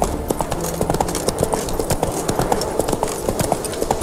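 Steady clip-clop of a galloping horse's hooves in The Witcher 3: Wild Hunt, rapid and close, over a continuous in-game ambient backdrop.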